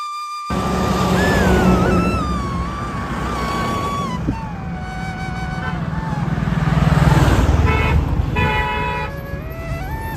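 Busy road traffic during a Narmada parikrama walk, with cars and motorcycles passing close and loud and repeated horn toots cutting in throughout, a steady engine rumble underneath.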